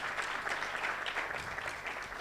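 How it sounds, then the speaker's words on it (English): A crowd at a live-streamed association event claps for the judges, a dense, even burst of applause that is fairly faint and continuous throughout. "I think we need to give them a major round of applause for making this a success."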